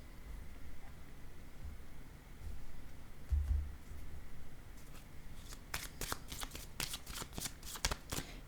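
Tarot cards are shuffled and laid out, giving a soft papery riffle and a run of crisp card snaps near the end, close and fairly quiet with no talk over it.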